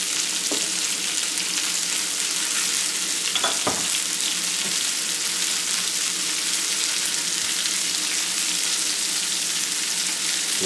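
Mushrooms sizzle steadily in olive oil in a newly seasoned cast iron skillet, a dense continuous frying hiss with a few soft stirring clicks and scrapes near the start, close and alone with no voices.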